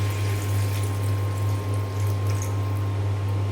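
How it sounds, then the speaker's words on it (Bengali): Water poured into a pot of potato and egg curry simmered with spices, a steady continuous pouring and splashing at close range over a low mains hum, with no talk. "এখন পরিমাণ মতো পানি দিয়ে দেব"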